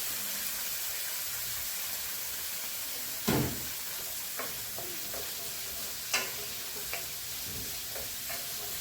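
Shallots and curry leaves sautéing in a pan for a prawn theeyal, a continuous close sizzle broken by a few sharp clinks and scrapes of stirring, with no voices.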